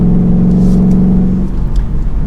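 A 2021 Ford Mustang GT Premium coupe with a manual gearbox accelerating on the road, its engine a loud, close, deep steady rumble with a slight rise in pitch, no talking over it.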